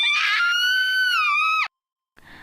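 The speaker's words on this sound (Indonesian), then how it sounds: "teriakan Trivia terdengar oleh semua teman-temannya" A woman screams in a film scene set on an island of giant insects, a long piercing high-pitched cry held for over a second, then cut off abruptly before a brief faint noise follows.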